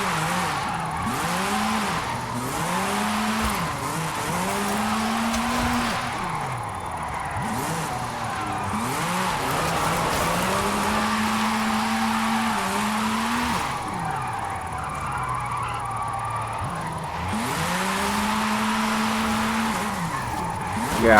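A 2021 Aston Martin DBX with an all-wheel-drive drift tune sliding through turns, its tires squealing in repeated wavering bursts over a steady engine drone, with brief gaps between slides.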